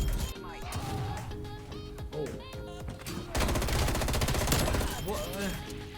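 Submachine gun fire in Black Ops Cold War, sustained rapid bursts that swell louder partway through, mixed with game music and effects and overlaid by a talking player.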